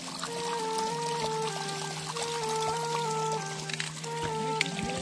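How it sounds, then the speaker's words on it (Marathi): A stream runs through Kundlika Valley beside a flat camping spot, giving a steady, close wash of flowing water for the whole stretch, with sustained melodic tones layered over it. "छानपैकी पाणी वाहते."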